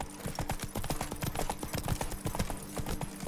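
Roach, the horse in The Witcher 3: Wild Hunt, gallops steadily with rapid, rhythmic hoofbeats pounding close and clear over a low ambient bed.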